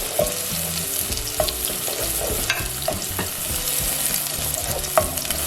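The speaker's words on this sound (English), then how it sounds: "I'm going to add in my onion and garlic, which I diced, and I'm going to saute for about a minute" Diced onion and garlic sauté in hot oil for a vegan cream of pumpkin soup, a loud, dense, continuous sizzle with frequent light stirring knocks and scrapes close by.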